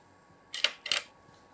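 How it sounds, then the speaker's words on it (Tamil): A knife slices through a chocolate paneer roll in two quick, crisp cuts, each a short scraping swish, close and fairly quiet with no talking. "இப்போ நான் வந்து இப்படி கட் பண்ணுறேன்"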